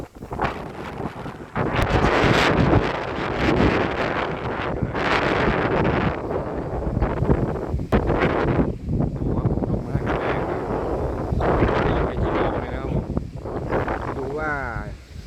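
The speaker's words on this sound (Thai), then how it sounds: "ลมค่อนข้างจะแรง" Strong, gusty wind in an open area buffets the microphone in loud, roaring bursts that rise and fall throughout, with someone talking intermittently beneath the gusts.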